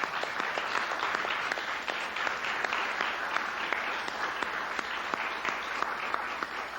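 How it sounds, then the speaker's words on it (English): Sustained audience applause at an awards ceremony for young fellows, a dense, even roll of many hands clapping with occasional sharper individual claps standing out, continuing without a break. "So let's give them all a big applause"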